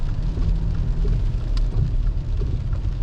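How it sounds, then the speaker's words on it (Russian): Heavy rain pours steadily at night around a turbocharged Subaru Forester SK5 on the road, a constant loud wash of rainfall with a deep rumbling undertone and no voices. "Дождь фигачит."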